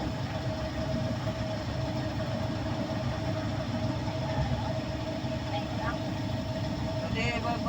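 A vehicle engine idles with a steady, low, continuous rumble that holds evenly throughout, with voices present alongside it.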